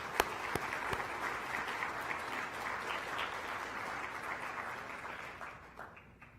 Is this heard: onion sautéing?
no